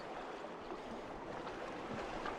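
Steady broadband rush of a waterfall and river water in Zion Narrows, a continuous dense roar close by with no talk.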